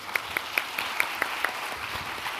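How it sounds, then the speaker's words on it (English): An audience at an international economics conference in Seoul applauds the speakers, a short, fairly faint patter of claps with a few sharper individual claps standing out. "So let's give a big applause for them."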